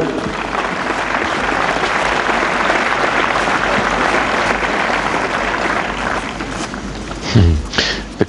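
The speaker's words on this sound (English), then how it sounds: "The crowd are so supportive of Paddy Schnyder" Loud, dense applause from a tennis crowd at a 2005 Berlin women's match fills the stadium steadily, with no talk over it, then thins and breaks off near the end.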